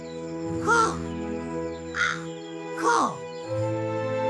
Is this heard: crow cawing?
yes